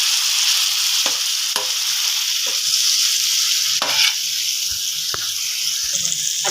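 Water poured into frying spices in a pan for tawa bhindi gosht, a loud, close, continuous sizzle and hiss punctuated by several sharp stirring scrapes and pops.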